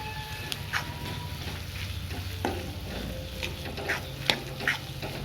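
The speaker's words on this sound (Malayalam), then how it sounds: "നന്നായിട്ട് തന്നെ ഇളക്കി കൊടുക്കുക" Meat masala and chili powder are stirred in a sizzling pan for jackfruit seed cutlets, with a close, steady fry under repeated scraping strokes of the spoon and no talking.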